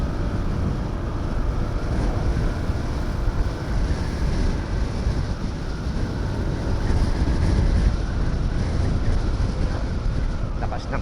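Strong wind buffets a motorcycle mic as the rider travels, a loud, steady broadband roar with gusty swells filling the whole stretch; no clear talk over it.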